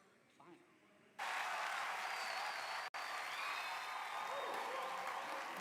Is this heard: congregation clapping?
yes